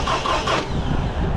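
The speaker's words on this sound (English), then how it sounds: "Can you just crank it for 1 second?" A 2006 Toyota RAV4 with a crank-no-start fault turns over briefly, the starter motor churning in a short, rhythmic whirring pulse for about a second, close and fairly loud, without the engine catching.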